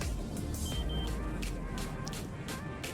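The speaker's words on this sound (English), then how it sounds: "I'm not sure what the beeping is" Electronic beeping inside a skydive landing simulator game, a series of short repeated bleeps at irregular intervals over a low rumbling wind-like background.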